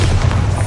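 The Bombarda blasting spell goes off in the Hogwarts Legacy game as one loud, close, low booming burst with heavy rumble, filling the whole short moment.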